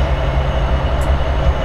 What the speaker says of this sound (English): the train I'm using is the General Electric